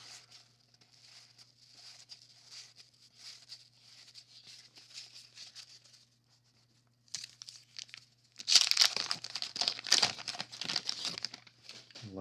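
Wax packs of 1989 Fleer baseball cards being torn open and crinkled, quiet rustling at first, then a louder burst of ripping and crumpling wrapper near the end.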